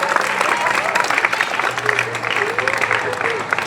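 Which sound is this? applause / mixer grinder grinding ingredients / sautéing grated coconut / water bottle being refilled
applause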